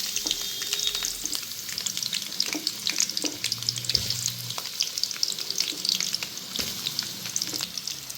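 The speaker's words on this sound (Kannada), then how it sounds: "ಫಸ್ಟಿಗೆ ನಾನು ಈರುಳ್ಳಿ ಹಾಕ್ಕೊತಾ ಇದ್ದೀನಿ ಕಟ್ ಮಾಡಿ ಇಟ್ಕೊಂಡಿದ್ದೀನಿ ಅದನ್ನು ಹಾಕ್ಕೊತ ಇದ್ದೀನಿ" Chopped onion frying in hot oil for a rustic goat head-and-trotter sambar, a steady dense sizzle with occasional stirring scrapes, close and continuous throughout with no talking.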